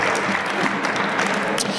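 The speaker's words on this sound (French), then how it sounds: "Applaudissez-les oui, pour les encourager." Continuous clapping from a seated audience at a panel discussion on professional integration, even and moderately loud with sharper individual claps standing out, no speech over it.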